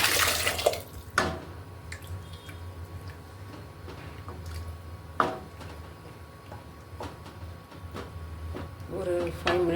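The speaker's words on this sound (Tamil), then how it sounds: "பருப்பு தண்ணியை ஆட் பண்ணிக்கலாம்." Lentil cooking water is poured into fenugreek leaves kootu in a pan, giving a splashy, trickling pour punctuated by several sharp clinks of a utensil or vessel.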